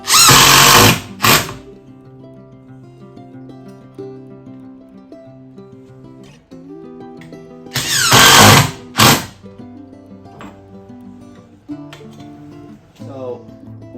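A Ryobi cordless impact drill fires in short loud bursts, one around a second long and a pair later on, each standing out sharply against quieter background music and household noise.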